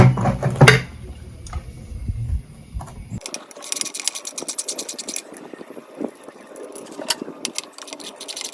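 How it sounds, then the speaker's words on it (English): A 3/8 ratchet driver backing out bolts on the gear case of a 9.5 hp Johnson outboard, giving a quick run of light clicking ticks after a louder opening stretch of handling noise. "3/8 driver. Take the 4 bolts out right here."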